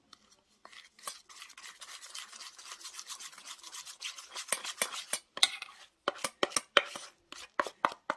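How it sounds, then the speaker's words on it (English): Gel food colouring being stirred into a mixture in a bowl, quick rhythmic scraping strokes that grow louder and more clipped toward the end, close and dry with no speech. "we're gonna stir it up"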